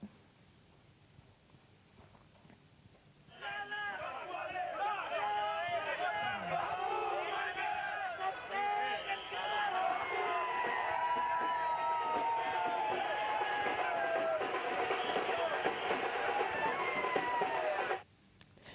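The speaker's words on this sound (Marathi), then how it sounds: "राष्ट्रवादीच्या रुपाली ठोंबरे पाटलांचा पराभव करत या उमेदवारांनी विजयी जल्लोष केलाय" Supporters of the winning candidates celebrate a municipal election victory in Pune, a loud crowd of whoops and cheers rising abruptly and holding steady before cutting off near the end.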